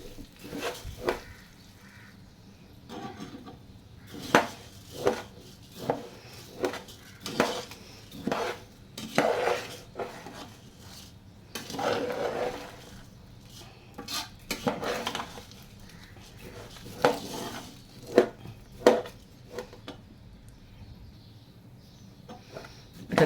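Basmati rice with ghee and spice tempering stirred in a pot over low heat: a long run of repeated scrapes and clanks of the spoon against the metal, close but soft, in uneven bursts.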